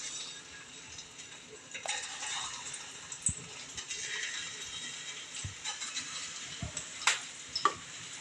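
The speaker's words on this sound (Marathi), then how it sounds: "बारीक गॅसवर तळायचं।" Kachori frying in hot oil over a low flame gives a faint, even sizzle, dotted with occasional light clinks and taps from utensils.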